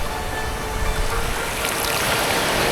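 Rushing ocean waves on the Cambodian islands of Koh Rong wash in a steady broadband roar, building slightly louder toward the end, with some wind mixed in.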